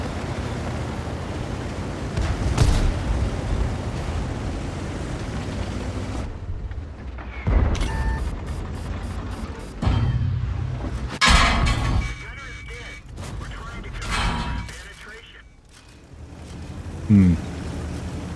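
Artillery fire and shell blasts from a World of Tanks style game with an Indian Panzer tier VIII medium tank: several heavy booming thuds and crashes at irregular intervals over a rumbling engine drone, with someone talking now and then.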